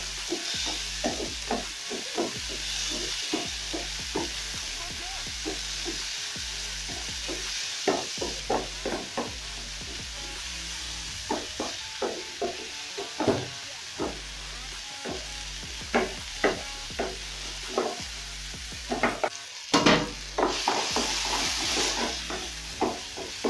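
Tomatoes and coriander stems cook down in a pan for a chicken curry. A low sizzle runs under repeated close spoon scrapes and taps in an irregular rhythm, with no talk.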